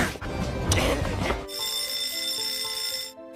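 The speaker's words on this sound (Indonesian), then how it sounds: "Saat bel asli berbunyi" Bell ringing in the Japanese tokusatsu series Sentai Daishikkaku: a sustained, bright electric bell with a ringing metallic tone, loud and close, starting after a burst of noisy action sound.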